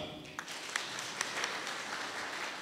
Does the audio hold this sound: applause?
yes